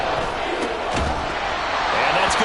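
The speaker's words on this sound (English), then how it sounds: "This crowd turning up the decibel level." Dense stadium crowd roar at an NFL football game on third and long, a steady loud wash of voices with a rising swell near the end and no clear talk.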